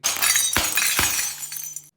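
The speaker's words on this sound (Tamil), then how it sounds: "இந்த கிளாஸ் ஸ்டவ் வாங்குறதுக்கு நெறைய பேர் யோசிக்கிறதே இந்த மாரி உடைஞ்சிரும்ன்ற பயத்தில தான்" A glass stove top shatters with a sharp, loud crack followed by a second impact and a bright spray of tinkling fragments that fades over about two seconds.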